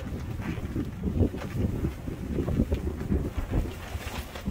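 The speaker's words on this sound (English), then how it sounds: "That wind is blowing it completely down." Strong desert wind buffets the microphone in steady, gusting rumbles near a van parked on the approach to a remote hot springs valley, continuous and fairly loud throughout.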